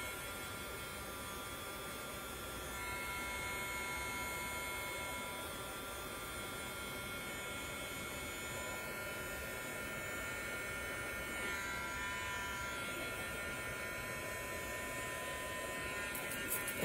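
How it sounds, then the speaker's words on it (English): A handheld heating tool blowing hot air over a freshly made T-shirt, a steady, even electric hum and rushing whir that runs continuously and alone at moderate volume. "I'm going to just use my heating tool and just heat it up a little bit"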